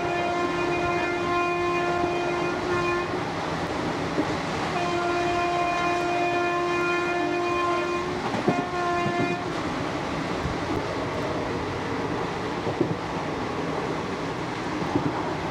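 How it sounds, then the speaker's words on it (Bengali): A passenger train on the overnight Sealdah to Madhupur run rumbles along at speed, with sustained horn blasts sounding over the rolling wagon noise and occasional clacks from the rails. "ট্রেন কিন্তু এখন বেশ ভালোই যাচ্ছে।"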